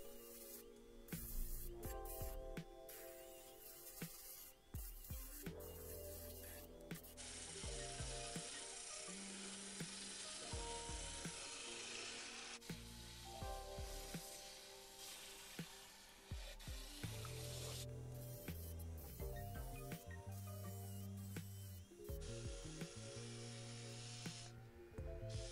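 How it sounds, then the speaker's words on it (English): A disc sander smooths the edges of glued-up wood pieces for a garden chair made from an old office chair, with a steady whirring grind that shifts in pitch as the workpiece is pressed and moved. Brief pauses break up the sanding. "I could use my disc sander to go around all the edges to make them nice and smooth and"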